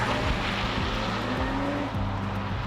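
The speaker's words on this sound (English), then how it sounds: "Motoring up to 60 miles an hour from a standstill is an easy 7 seconds." A Nissan Pathfinder Rock Creek pulls away from a standstill, its engine droning loudly and rising through several gear changes under a constant rush of road and wind noise.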